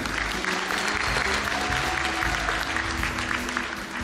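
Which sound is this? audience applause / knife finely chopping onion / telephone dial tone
audience applause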